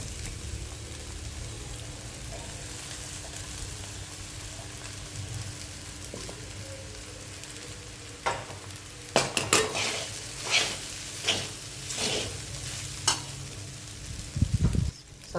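Potatoes sizzle steadily in a pan, a constant frying hiss; partway through, spoon stirring adds a series of scraping, clattering strokes against the pan.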